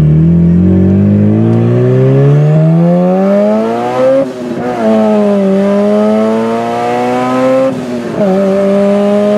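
Turbocharged Honda Integra pulling hard through the gears from inside the cabin, the engine note climbing steadily, dipping at two quick shifts, then rising again, loud and close throughout.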